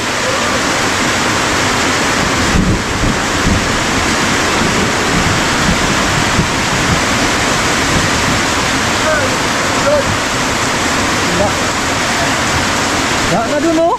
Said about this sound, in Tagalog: Grabe lang sa ulan.